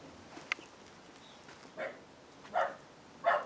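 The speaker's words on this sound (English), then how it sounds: "Oh, Megan, don't bark, please" A dog barks in short separate yaps, roughly three or four sharp barks spaced about a second apart, fairly distant and moderately loud over quiet outdoor background.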